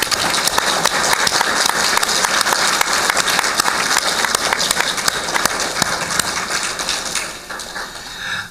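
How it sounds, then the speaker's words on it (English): A crowd at a 2013 high school graduation applauds the graduates, with sustained, dense clapping filling the space and tapering slightly near the end. "So let's see if we can give all these graduates applause."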